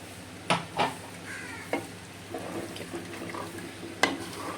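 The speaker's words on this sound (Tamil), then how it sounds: "இப்போ கொஞ்சமாக தண்ணி சேர்த்துக்கிறேன்" Water added to a pan of simmering anchovy (nethili) fish curry, with a few sharp splashes and clinks over a low bubbling sizzle, close and moderately quiet.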